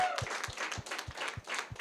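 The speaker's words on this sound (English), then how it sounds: "So just a round of applause for all our competitors." Competitors at an editing competition event receive applause: a small group claps in quick, overlapping bursts, fairly close and moderately loud, with a faint voice briefly underneath.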